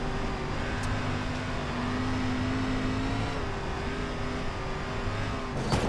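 Simulated SRX stock car engine droning steadily on a dirt oval in the iRacing game, a sustained mid-pitched roar with slight pitch shifts as the throttle changes, loud and continuous with no talk.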